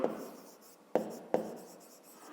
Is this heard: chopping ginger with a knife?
no